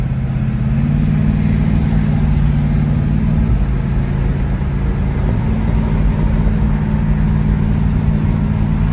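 A 1971 Oldsmobile Cutlass S with a Turbo 350 transmission accelerates onto a highway, heard from inside. A loud, steady engine drone rises in pitch, then shifts and continues over road noise.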